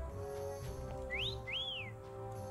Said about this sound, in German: Oh, danke, Spiel, dass du wegen der letzten Feder pfeifst.